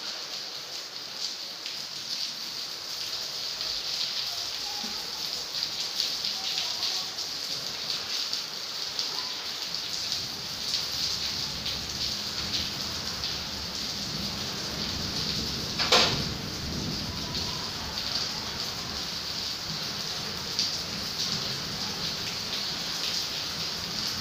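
Heavy rain pouring outside a home, a steady broadband wash that holds throughout with a brief sharp knock or clatter midway; no talking over it.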